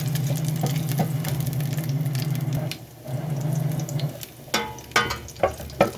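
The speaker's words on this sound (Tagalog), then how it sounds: "mag-isa na po tayo ng garlic." Garlic sautés in a pan, a steady close sizzle of frying that continues throughout, joined near the end by a few sharper clinks and spatters.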